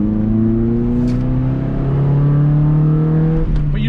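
Honda Del Sol with a cut-off exhaust driving by, a loud, raspy engine drone with steady rising pitch, close and continuous with no talk.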